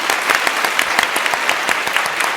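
Studio audience applause on the Alfapetek quiz show, loud and even, a dense, continuous burst of many hands clapping.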